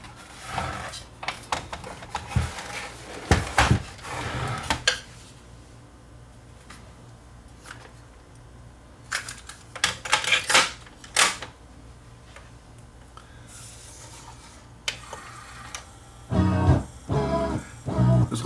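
A JVC TD-R272 auto-reverse cassette deck with its mechanism opened, motor and belt turning the tape with slipping belt trouble. Mechanical clicks and clunks come in irregular close bursts with quiet stretches between them.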